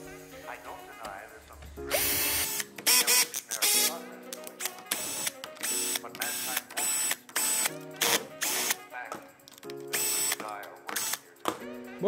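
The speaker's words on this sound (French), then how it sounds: "je vais passer à toutes les vis qui maintiennent le carter d'embrayage" Power tool removing the clutch cover screws on a Derbi E3 GPR engine: close, short whirring bursts separated by pauses, with clicks and small metal clatters between screws.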